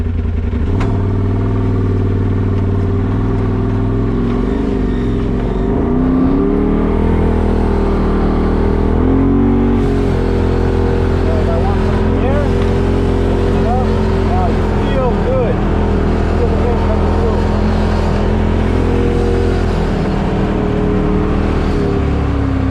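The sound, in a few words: Polaris RZR Turbo side-by-side driving, engine and wind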